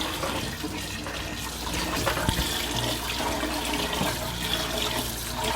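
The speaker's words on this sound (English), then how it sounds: "Rinse the rice just to make sure that there's no dirt in it" Water runs and sloshes steadily, with light splashing and swirling as grains are rinsed, a continuous close wet rushing throughout.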